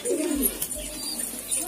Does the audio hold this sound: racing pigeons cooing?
yes